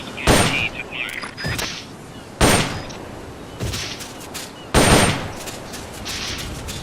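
Gunshots in the video game Metal Gear Solid: Peace Walker, several sharp single reports spaced a second or two apart, loud and close, with quiet gaps between them.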